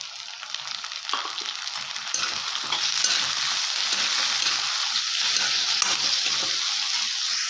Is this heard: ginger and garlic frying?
yes